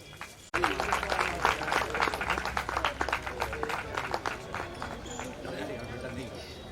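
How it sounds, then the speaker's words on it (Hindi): Audience at a ceremony breaks into a sudden burst of dense, steady applause that follows a brief silence, holds loud and close for several seconds, then thins out toward the end. "बहुत ही जोरदार तालियों से आप भी उनका उत्साहवर्धन कर सकते हैं"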